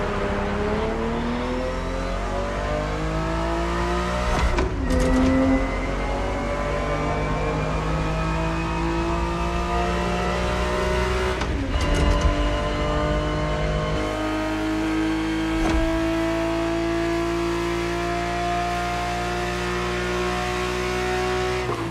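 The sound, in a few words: Ferrari 365 GTB4 engine in The Crew Motorfest video game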